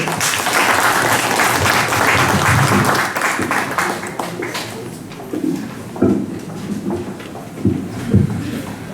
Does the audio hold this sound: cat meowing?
no